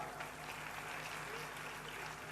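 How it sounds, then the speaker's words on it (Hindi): Faint audience applause at a religious discourse gathering, a brief steady patter of many hands under a low hum, with some voices mixed in. "ताली बजाओ साहब"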